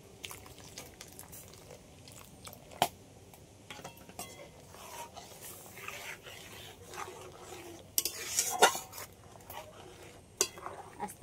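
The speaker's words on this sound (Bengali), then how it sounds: "এবার আমি এই ভিনেগার গোলা জলটা এই দুধটা কিছুক্ষণ ফুটিয়ে নিয়েছি এর মধ্যে দিয়ে দেবো।" A spoon scrapes and clinks in a pot as vinegar water is poured into boiled milk and stirred, giving scattered light metallic taps and soft scraping over a quiet background.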